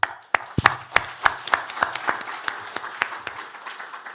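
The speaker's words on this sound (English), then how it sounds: "So big applause for Fiorella today." Scattered, fairly close hand claps from a small audience at an end-of-project event in Rome, sparse individual claps at an uneven rhythm rather than a dense roar, lasting about four seconds.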